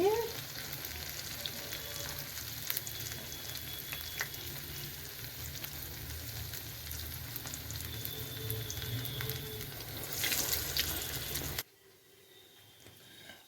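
Onion vada fry in hot oil with a dense, steady sizzle that holds close and loud for about eleven seconds, then cuts off abruptly to near quiet.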